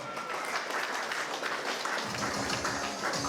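Wedding guests applaud in a dense, steady patter of many clapping hands that carries on throughout.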